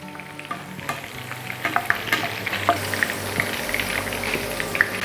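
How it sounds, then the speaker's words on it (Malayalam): Curry leaves and two green chillies shallow-fried in coconut oil, crackling loudly at close range with rapid pops and spatters over a constant sizzle, with no voices. "നമ്മുടെ ഈ സെയിം വെളിച്ചെണ്ണയിലോട്ട് നമുക്ക് കുറച്ച് കറിവേപ്പിലയും 2 പച്ചമുളകും കൂടി ഇട്ട് ഒന്ന് ഷാലോ ഫ്രൈ ചെയ്തെടുക്കാം"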